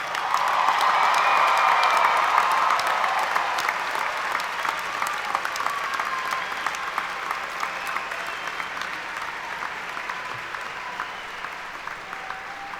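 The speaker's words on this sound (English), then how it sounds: "please join me in a round of applause for all of our graduates." An audience at a Roosevelt University spring commencement applauds and cheers for its graduates, a loud, sustained roar of clapping with shouts that peaks early and then slowly eases off while staying full.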